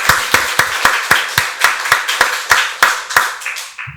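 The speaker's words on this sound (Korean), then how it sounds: "박수로 하나님께 영광 돌리겠습니다." A church congregation at a Sunday worship service claps in unison, sharp regular beats about three per second, loud and close-sounding, with no talk over it.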